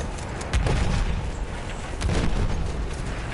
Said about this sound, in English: Oh my gosh, so much explosion.